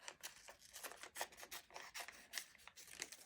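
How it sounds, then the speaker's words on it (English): Paper scissors roughly cutting around a leaf shape traced on Heat 'n Bond, giving a quick run of crisp, close snips and rasping cuts in an uneven rhythm, with no talk. "I'm going to rough cut around it with my paper scissors"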